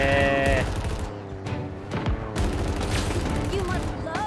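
Bursts of gunfire in the Halo Infinite campaign, loud and close, mixed with game music tones and some booming hits, with voices talking over part of it.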